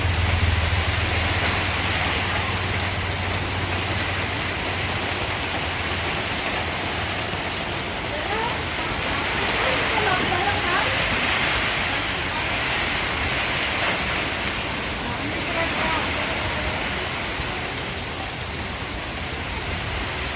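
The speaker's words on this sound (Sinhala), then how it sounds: "හොඳටම වහිනවා මේ ටිකේම හොඳටම වහිනවා" Heavy rain pours during a hurricane, a dense, steady roar of drops that holds at an even loudness throughout with no voices.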